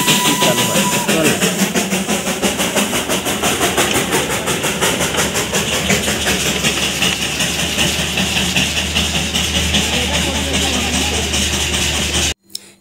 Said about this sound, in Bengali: এই ট্রেনটা চলে কয়লা থেকে।